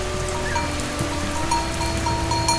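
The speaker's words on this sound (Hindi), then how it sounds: "इस वक्त बारिश नहीं होनी चाहिए थी।" Steady rain falls on a surface in a dark jungle at night, a dense even patter with scattered louder drops, alone with no voices.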